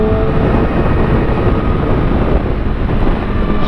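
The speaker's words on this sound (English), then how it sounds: "very windy today" Loud, steady wind roars and buffets the microphone, a dense rushing noise with no pauses and no voices.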